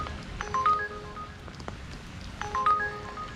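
An Uber delivery app on a phone gives two short electronic notification chimes, a couple of seconds apart, outdoors in rain in Vancouver.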